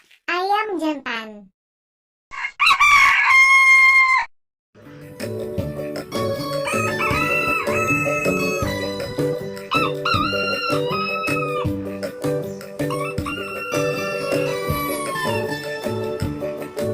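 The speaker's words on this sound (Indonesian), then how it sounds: "Ayam jantan." A rooster crows once, loud and close, followed by another loud call and then a long stretch of bright backing music.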